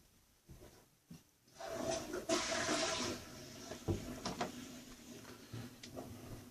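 A toilet flushes behind a closed bathroom door: a muffled rush of water swells up and then trails off into a steady refilling hiss, with no talking.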